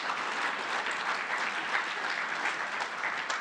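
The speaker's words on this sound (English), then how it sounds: "Applaud them for that." Dense, steady audience applause fills a hall during a speech on South Africa's economy, loud and continuous throughout with no voices over it.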